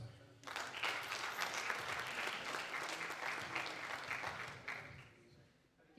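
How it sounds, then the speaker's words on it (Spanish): Audience at an academic research event applauding steadily for about five seconds, a dense rattle of many hands at moderate distance that fades toward the end. "Fuerte el aplauso."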